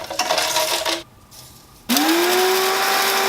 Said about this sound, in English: Now add your toasted ingredients into the blender and blitz it on high.